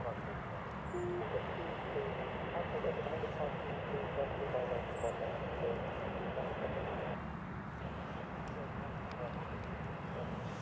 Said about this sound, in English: that's a British Airways just lining up on runway 25